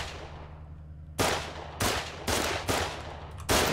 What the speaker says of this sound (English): This guy's just shooting me for no reason.